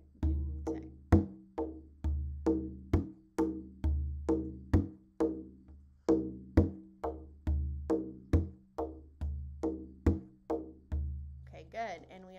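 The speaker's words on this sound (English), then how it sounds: "Double time. If you get there by the end of the month, sounds like this. Doom tek pa tek." Hand drum played in double time in a doom tek pa tek pattern, with deep booming strokes and sharper taps in a steady repeating cycle, close and fairly quiet, alone.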